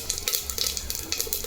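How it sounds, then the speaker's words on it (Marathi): Whole spices sizzle in a spoonful of hot oil inside a pressure cooker on a gas stove, a faint, steady crackle with small bright pops throughout. "तेल गरम झालं, त्यामध्ये आता हे आपले खडे मसाले टाकून घेऊ।"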